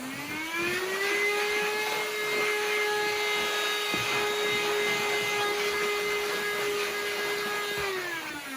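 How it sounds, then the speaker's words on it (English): A small battery-powered handheld vacuum cleaner runs steadily for about eight seconds, its motor whine rising at switch-on and falling as it winds down, loud and close with no talk. "So I'm going to get my little hoover here to try and get rid of all this mess."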